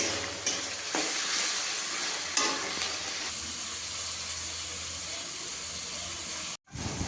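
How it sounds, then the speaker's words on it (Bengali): Rohu fish pieces frying in hot oil in a kadai in a home kitchen, a continuous close hissing sizzle that cuts out briefly near the end. "এই মাছগুলোকে আমি কড়াইতে দিয়ে ভালো করে ভেজে নিচ্ছি।"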